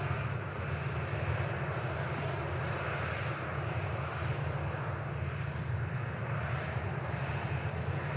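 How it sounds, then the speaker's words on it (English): Ryanair airliner departing Manchester Airport for Paris, a steady broad jet engine roar heard from a distance, sustained evenly throughout with no talk over it. "Next RyanAir getting out of here now for Paris"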